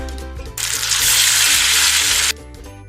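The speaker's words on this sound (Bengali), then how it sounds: "তেল দিয়ে আমরা মাংসটা বসাই দিব।" Marinated meat hits a little hot oil in a pan, a loud, steady sizzle bursting in abruptly and holding for nearly two seconds before cutting off, with faint kitchen clatter around it.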